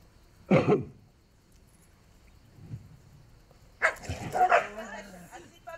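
A dog gives one sharp bark, then after a pause a short burst of yips and barking, close by with little else around.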